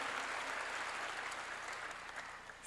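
A church congregation claps together during a sermon, a dense, even wash of applause that holds steady for a few seconds and thins slightly at the end.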